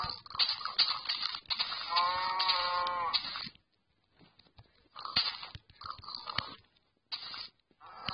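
A Minecraft cow moos once, a drawn-out lowing call, amid clicking and crunching sounds, followed by a quiet gap and more short clicky noises.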